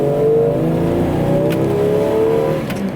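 Jeep Cherokee Limited Sport XJ engine pulling steadily as it accelerates on the road, with a continuous loud drone and rising harmonic tones holding through the whole stretch.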